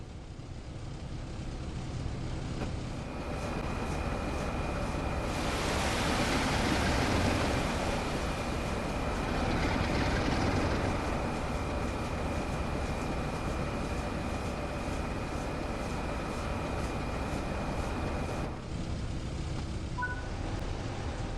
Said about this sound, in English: Ease the wagons under the loader to fill them all evenly.